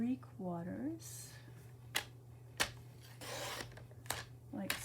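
Scrap of So Saffron cardstock trimmed down with a few brisk slicing strokes, each a short papery swish, with someone talking briefly before and after.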